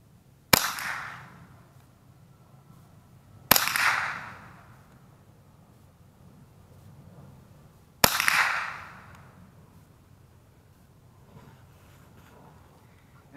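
Three sharp .22 rifle shots firing Federal Match Grade ammunition, spaced a few seconds apart outdoors. Each is a crisp, snappy crack with a short ringing tail, and the shots are heard alone without talk.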